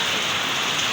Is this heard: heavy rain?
yes